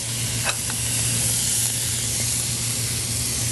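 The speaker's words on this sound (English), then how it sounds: "Then we're going to place it on the griddle." A certified Angus beef burger patty, seasoned with salt and pepper, sizzles on a hot griddle: a steady, loud, broadband hiss with a low hum underneath and a faint tap near the start, no voices.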